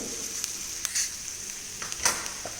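Mustard seeds, chana dal and urad dal frying in oil for tempering, a steady soft sizzle with a few sharp crackles and pops and no talk.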